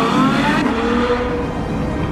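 Ferrari F12 Berlinetta engine revving hard after a downshift to second gear, a loud, close, rising mechanical roar with rich harmonics and no talk.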